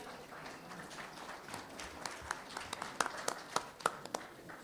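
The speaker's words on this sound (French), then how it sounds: "Vous pouvez les applaudir." An audience at a 2014 election candidates' debate in Borduas county claps in a light, scattered patter, with several sharper, louder claps standing out toward the end.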